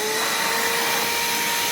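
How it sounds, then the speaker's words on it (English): A HAUSHOF 4-gallon wet/dry vacuum cleaner set to blower mode pushes out air with a constant loud rushing hiss and a thin motor whine, continuous and close, with no talking. "I can put this on here into a blower mode. And this will now blow instead of vacuum."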